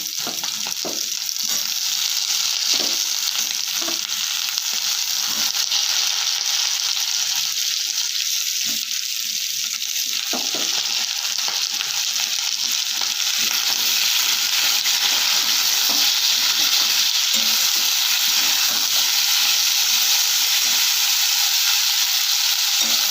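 Potatoes and beans fry in a pan with a steady, loud broadband sizzle, broken by clattering stirs and scrapes of a spatula throughout.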